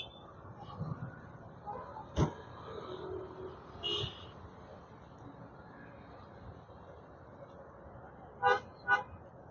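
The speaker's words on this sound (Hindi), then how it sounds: "ये देखो रात में कितने बिजी होते हैं रोड, गाड़ी के पीछे गाड़ी, गाड़ी के पीछे गाड़ी" Night traffic on Marine Drive in Mumbai, a soft distant road hum broken by a few sharp car horn toots, with a double honk near the end and faint voices in the background.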